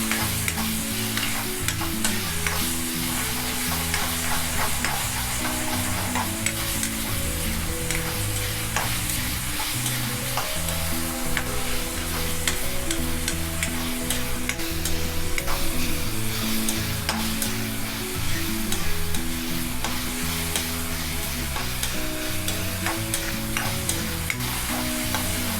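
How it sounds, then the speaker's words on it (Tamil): Tomato, onion, ginger and garlic sauté together in a pan over a high flame, giving a steady, loud sizzle with a constant stirring rustle throughout and no voices. "தக்காளி, வெங்காயம், தக்காளி, இஞ்சி பூண்டு இது 4மே ஒன்றா சேர்த்து ஒரு 2 நிமிஷம் போல் ஹை ஃப்ளேமில்"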